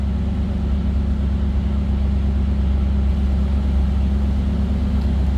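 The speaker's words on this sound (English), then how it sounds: "Nothing crazy as far as exhaust." A 1988 Chevrolet Camaro IROC-Z convertible idles steadily with a low, even exhaust rumble, constant and fairly loud throughout, with no talking.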